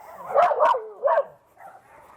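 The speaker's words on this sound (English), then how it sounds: "The dog's got some behavioral issues." A dog with behavioural issues barks three times in quick succession, loud and close, followed by softer whimpering yips in an indoor home setting.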